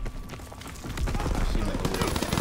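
Rapid automatic gunfire from an M3 grease gun in a World War 2 video game, loud bursts building after the first second and continuing steadily over other battle noise.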